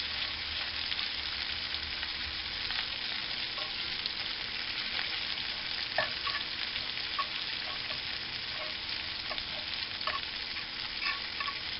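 Sliced onions, cut into half-moons, frying in a pan with a steady soft sizzle and occasional crackles and stirring clicks, close and alone without speech.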